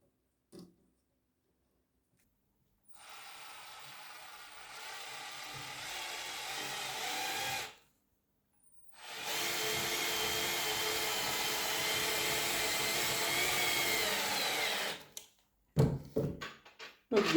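A Parkside drill fitted with a right-angle bit holder and Phillips bit drives a small screw in two steady whirring bursts separated by a short pause, followed by a few brief clicks at the end.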